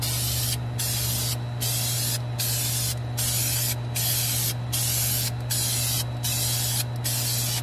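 An aerosol spray paint can laying down a test coat, sprayed in regular bursts with short pauses between them over a steady low electrical hum.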